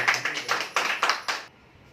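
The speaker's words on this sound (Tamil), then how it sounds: "அவருக்கு முதல்ல ஒரு கரகோஷத்தை கொடுத்து" An audience at a spiritual gathering in Madurai claps about six crisp, evenly spaced handclaps over a second and a half, then falls quiet, with no voices.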